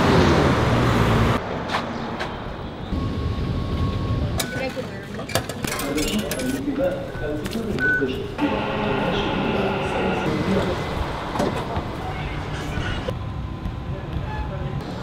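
A metro train rumbles and squeals along the tracks inside a metro station with busy background clatter and people talking nearby.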